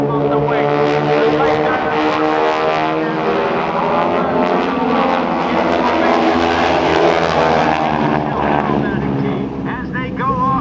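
Propeller aircraft of the Aeroshell aerobatic team flying a formation barrel roll at the 2013 Dayton airshow, with unmatched throttles; a loud, steady multi-engine drone with beating, wavering tones fills the whole stretch.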